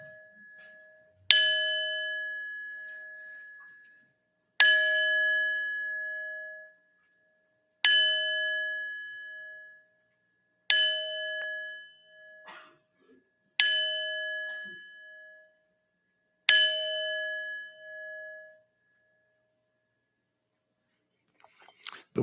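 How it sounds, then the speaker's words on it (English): A church bell at a Unitarian Universalist Sunday service in Roanoke strikes six clear, ringing tones about three seconds apart, each decaying fully, with what may be a seventh strike cut off at the end; near and alone, without talk. "Let me ring the bell 7 times"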